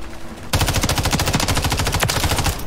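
Automatic gunfire in Call of Duty MW3 multiplayer erupts after a brief quiet moment into a sustained rapid burst of loud, evenly spaced shots lasting about two seconds.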